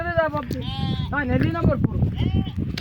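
Several goats bleat in overlapping, wavering cries while people talk nearby, as the goats run to drink water.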